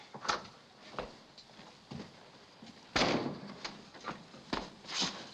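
A back door thumps and knocks through several sharp, close impacts spread irregularly, with one louder bang in the middle, in an old 1942 film scene.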